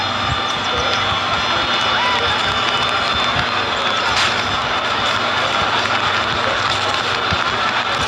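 A huge crowd cheers at a circus performance in an Unreal Engine demo, a dense, continuous wall of roaring voices and applause at steady loudness throughout.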